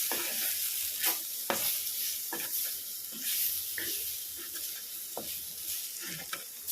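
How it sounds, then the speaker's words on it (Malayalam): Small chopped tomato cooks in masala for a sardine fish curry, a steady bright sizzle with occasional stirring scrapes, close and fairly loud. "മസാലയിൽ കടന്നിട്ട് തന്നെ തക്കാളി ഒന്ന് വേകട്ടെ"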